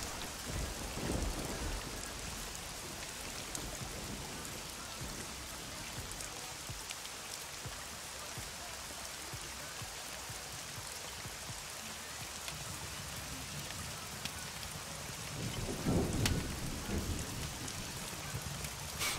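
Steady rain falls in the SCUM video game, a constant dense hiss of drops on surfaces, with a brief low rumble of thunder near the start and another swelling toward the end.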